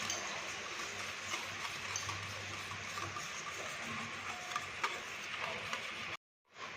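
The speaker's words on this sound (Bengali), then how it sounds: "তো ডিম আর চিনিটা ভালো করে আমি মিশিয়ে নেব।" Eggs and sugar are beaten together by hand for a sponge cake, giving a rapid, steady clicking and sloshing of a utensil against the bowl, close and continuous before stopping abruptly near the end.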